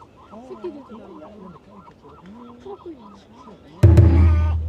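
An adult bird near its nest on Alcatraz Island gives a rhythmic series of honking, goose-like calls, fairly close and steady, before a sudden loud rumbling burst of close noise cuts in and covers the end.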